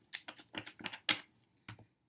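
Tarot cards shuffled by hand close up: a quick run of crisp riffling clicks and soft slaps in uneven bursts, then a brief pause and one last snap, with no talking.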